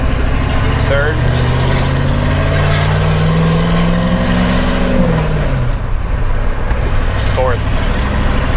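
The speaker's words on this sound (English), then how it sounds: "I'm still in third gear. We're going 15 miles an hour." 1983 Ford F-350 truck engine running in third gear at low speed, a loud steady drone with pitch gently rising and falling, someone talking over it throughout.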